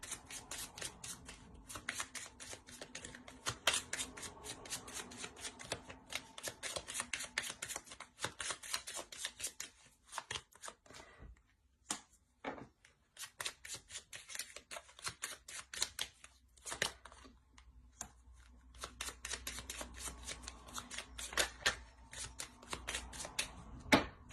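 Tarot cards handled and shuffled at close range, a steady run of dry papery flicks and riffles with brief pauses and a quieter stretch midway, no talking.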